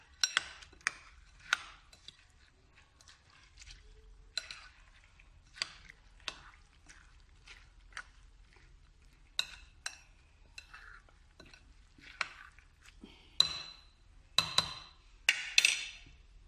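A spoon scrapes and clinks through a lentil patty mixture in a bowl in repeated sharp strokes, close and fairly quiet against a near-silent background.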